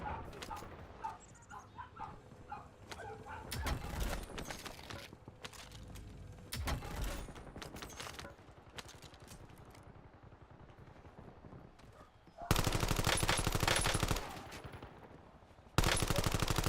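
Gunfire in a shooter video game, scattered single shots and rapid automatic bursts, some bursts loud and close, mixed with voices talking throughout.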